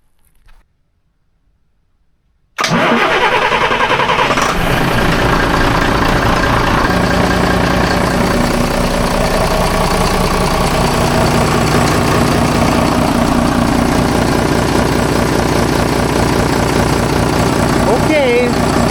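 A Volvo TAMD74 marine diesel aboard a Silverton 42C boat cranks and catches after a turbo replacement, then settles into a loud, steady low idle that runs on without pause.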